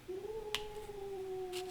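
A cat lets out one long, drawn-out, steady meow with a clear tone, close by and moderately loud, with a couple of faint clicks in the background and no talking.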